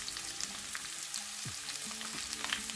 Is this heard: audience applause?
no